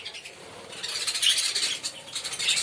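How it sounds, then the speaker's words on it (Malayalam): Caged lovebirds chirp in quick, high, overlapping bursts that build and continue throughout, close and fairly busy. "അപ്പൊ ഇതാട്ടോ കിളിയാണ്."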